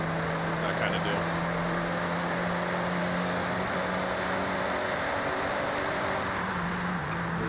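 A car coasting in the racing video game Forza Horizon 6 during an Italian exotics event, its steady engine drone and road noise humming continuously underneath, with a voice talking over it.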